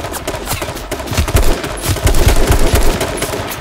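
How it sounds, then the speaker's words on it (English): Automatic gunfire rattles in H1Z1 King of the Kill, loud rapid bursts of shots stacking into a dense fusillade that swells and continues for several seconds without speech. "Oh, I'm getting shot at"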